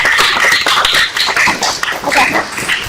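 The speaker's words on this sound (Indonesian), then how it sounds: "Beri tepuk tangan dulu dong untuk kita semua di sini" Applause at a taekwondo school event celebrating young athletes, with a dense, close crowd of hands clapping steadily for a few seconds, with no voices over it.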